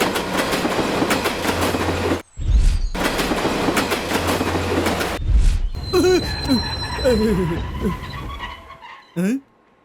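A train pulls into a railway station in a film scene, its rumbling wheels loud and continuous, broken by brief gaps, then easing into squeals and clatter as it slows, with voices and screeches near the end.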